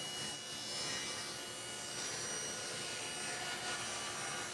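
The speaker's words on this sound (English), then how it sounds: "So I'm gonna start by making the 18 inch cut first." A table saw rips through a plywood sled base, making the first 18-inch cut with a steady, broadband whine of blade and wood that holds evenly throughout, close and loud, with no talking.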